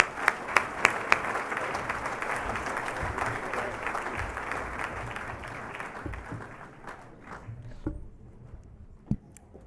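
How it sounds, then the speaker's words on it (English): Applause from a graduation salute audience honoring spring graduates, a dense steady patter with a few sharper near claps early on, thinning and tapering off toward the end as individual claps trail away. "Let's give them one more round of applause."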